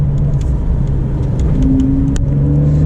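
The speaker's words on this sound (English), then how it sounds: "With that sport exhaust, it really sounds good." A Porsche 992 with a sport exhaust accelerates, a loud, close engine rumble with a rising tone partway through, steady and continuous with faint clicks on top.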